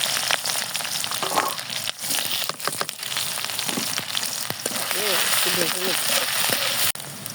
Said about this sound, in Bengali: দেখেন শাকটা হালকা ভেজে নিচ্ছি, এটা পেঁয়াজটা